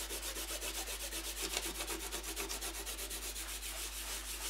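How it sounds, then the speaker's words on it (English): Fingers rubbing dried masking fluid off watercolour paper, a soft rhythmic scratchy friction repeating quickly and evenly, close and quiet with no talk. "you just remove the masking fluid by rubbing with your fingers"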